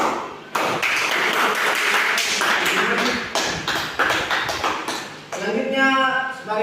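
A classroom of students claps for a classmate, a dense run of hand claps that swells and keeps going for several seconds and is loud and close, with a brief different sound near the end.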